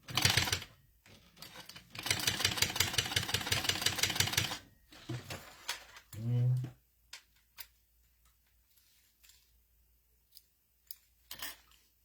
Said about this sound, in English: And then sew across again.